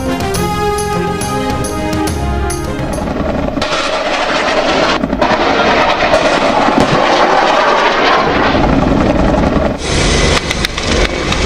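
A Z-10ME attack helicopter flies during a firepower demonstration at Muzaffargarh, producing a loud, close, continuous roar of engine and rotor noise that holds steady for the whole stretch.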